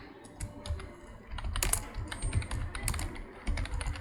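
Keys clatter on a computer keyboard in quick, uneven bursts while someone types a message for an Angular, WebSockets and Node.js chat app, close and moderately loud with no talk.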